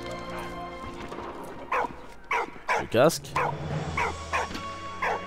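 Walt the dog barks repeatedly in the video game Soldats Inconnus, several sharp, evenly spaced yaps close up over a steady game soundtrack, with someone talking briefly.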